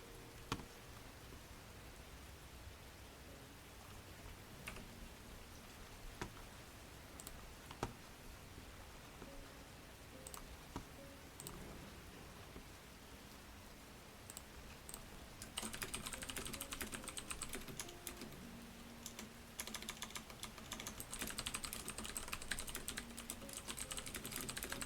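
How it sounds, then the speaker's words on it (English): Quiet, steady typing on a computer keyboard, soft clicks in a continuous rhythm that grows slightly louder and denser partway through, with faint background hiss and no talking. "I'm gonna put my head down and, do the clicky clackies"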